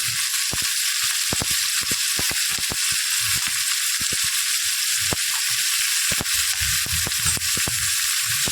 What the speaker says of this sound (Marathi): चांगला असा परतून घ्यायचा आहे कांदा चांगला शिजून घ्यायचा आहे